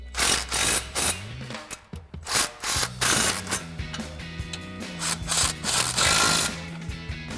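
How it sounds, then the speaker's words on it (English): Impact wrench with a short extension and 18mm swivel socket snugging bolts during a front CV axle and hub assembly install on a RAM 1500; close, loud, repeated short bursts of rattling hammering, about eight in quick succession with brief pauses between. "we're gonna grab our impact with a short extension and our 18mm swivel and just snug these all up"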